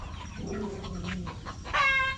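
Small chicks in a brooder alongside other fowl, with clucking and a burst of high, bright peeping cheeps near the end, close and moderately loud.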